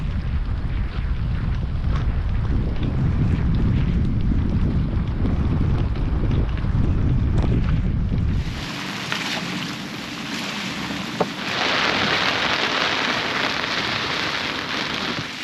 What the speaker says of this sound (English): that's thunder and lightning, big wind gusts coming through